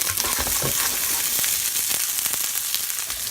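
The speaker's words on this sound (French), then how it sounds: "Voilà, la poêle est chaude. Maintenant, on y met nos sèches." Cuttlefish hits hot olive oil in a pan and fries with a loud, dense crackling sizzle, close and continuous, with a few sharper pops and scrapes scattered through and no voices.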